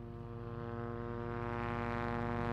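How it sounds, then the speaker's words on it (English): A propeller airplane drones overhead in the zombie survival game Project Zomboid, a steady, harmonic engine hum that slowly grows louder across the clip with no talking. "An airplane."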